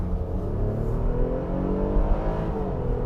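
A 2022 Infiniti QX60 engine revs as the SUV accelerates, a steady, loud low rumble from inside the cabin that holds for about three seconds, with slight swells in intensity and no talking.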